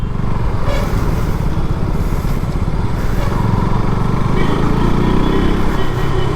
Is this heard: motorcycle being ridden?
yes